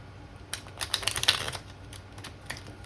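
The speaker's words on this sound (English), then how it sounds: "he said do a riffle shuffle." A quick burst of crisp, rapid fluttering clicks like cards being riffled together, close and fairly quiet, then a few scattered taps.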